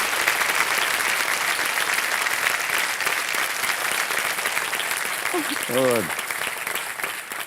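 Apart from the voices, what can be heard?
audience applause on a game show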